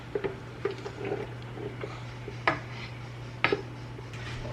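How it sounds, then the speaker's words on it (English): Spoon scraping and clinking inside a big pot while a spiced molasses mixture is stirred in for home canning, several soft knocks and scrapes over a steady low hum, no talking. "So let's stir that in there. Get that stirred in there good."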